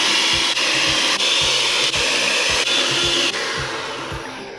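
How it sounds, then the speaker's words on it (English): An electric hand mixer whirs loudly and steadily, beating chocolate cake batter for a sourdough chocolate cake, with brief rhythmic dips as the beaters move through the bowl before it winds down at the end. "beat this with an electric mixer for 1 to 2 minutes until it's really creamy and a smooth texture"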